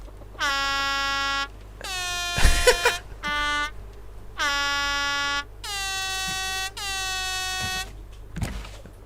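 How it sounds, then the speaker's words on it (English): Several loud, blaring air horn blasts in sequence in the video game Raft, each a sustained harmonic honk, separated by brief clattering thumps. "What a most excellent air horn."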